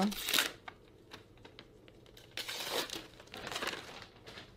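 Paper wrapping is crumpled and torn in a few crinkly bursts, close and fairly quiet, with brief rustling pauses between them.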